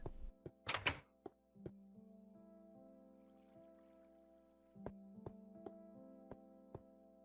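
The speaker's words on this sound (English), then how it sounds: "Why did I hear a door open?" A wooden door creaks open in Minecraft on Xbox, a sharp thunk followed by low sustained tones and several distinct knocking clicks spaced through a quiet interior scene.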